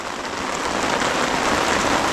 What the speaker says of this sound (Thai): ฝนตกพี่น้องเอ้ยไอเฮียงฝนไปแล้ว